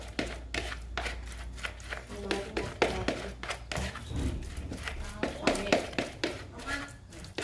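Fishing bait for carp being crushed and mashed by hand, a steady run of close, dull rhythmic pounding thuds with a low background rumble and no talk.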